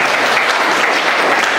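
A church congregation at Abbalove applauds, a loud, dense wash of clapping that fills the whole short moment without pause.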